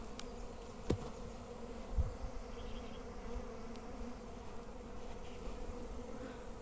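A swarm of bees colonizing a beehive box produces a constant, dense buzzing hum close by, with a couple of brief knocks, and no voices.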